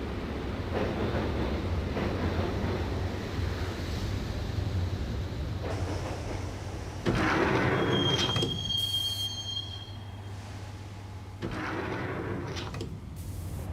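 A subway train rolls toward Roscoe Street Station in Max Payne, a steady rumbling ride with clattering wheels and brief high squeals of wheels on rails, continuous throughout with no voices.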